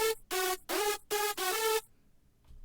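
A hardstyle lead synth, built in FL Studio 20 without a multiband compressor, plays five loud, bright, buzzy sustained notes in a punchy rhythm, then cuts to near silence.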